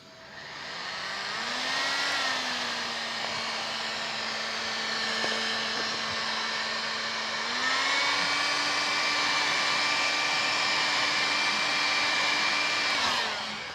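A heat gun blows steadily over EVA foam, a loud, even whirring hiss with a tone that shifts slightly as the setting changes, running throughout with no voices.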